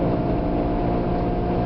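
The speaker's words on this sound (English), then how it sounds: "as soon as I started to drive, there was a roaring hum" A taxi car on the move gives off a loud, steady roaring hum with a deep droning tone that holds constant throughout, close and unbroken.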